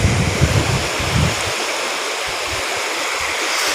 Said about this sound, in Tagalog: so yung parte na yan guys ilog na yan